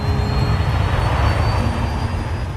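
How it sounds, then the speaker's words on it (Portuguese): Four Rolls-Royce jet engines on a Qantas Airbus A380 roar in a loud, steady, broadband rumble, heard close and alone with no voices over it. "O A380 é equipado com 4 enormes motores Rolls-Royce."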